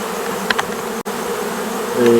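Honeybees bred from Ukrainian stock buzz in a steady, close hum, with a brief dropout in the middle and a slightly louder buzz toward the end.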